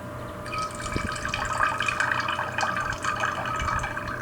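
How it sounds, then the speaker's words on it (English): A woman in the medieval life-simulation game The Sims Medieval pees standing into a chamber pot, a steady close trickle of liquid splashing with small drips, continuing throughout with no talk. "Oh, there's a woman standing up peeing."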